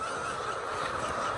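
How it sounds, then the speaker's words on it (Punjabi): Layer hens on a poultry farm cluck and squawk in a dense, continuous flock chatter, a brief burst of overlapping bird calls at moderate volume. "ਮੁਰਗੀਆਂ ਨੇ ਰੌਲਾ ਪਾਇਆ"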